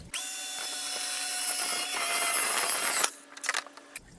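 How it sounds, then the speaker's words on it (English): A table saw cuts through a panel of plywood for a cargo trailer cabinet door, a loud steady whining buzz held for about three seconds before spinning down, followed by a few faint clacks. "I'll simply use the table to cut."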